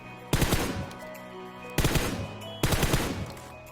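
Three loud bursts of automatic rifle fire from the PUBG battle royale game, each a short rapid volley of five to eight shots with a decaying tail, separated by brief pauses, with no voices.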